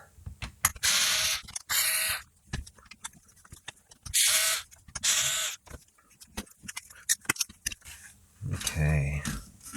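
Stubborn screws are worked loose on a Commodore 1541C disk drive, with bursts of gritty scraping and ratcheting clicks between short pauses. A voice talks intermittently, and a low hum rises near the end.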